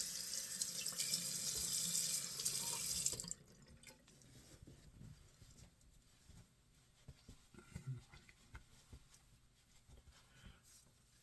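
Tap water runs hard into a sink as alum is rinsed off a freshly shaved face, loud and steady for about three seconds before cutting off, leaving quiet splashes and drips.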